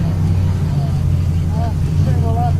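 A drift car works through a competition run at Battle of Little Rock, its engine a steady, droning low roar heard from a distance with faint voices over it.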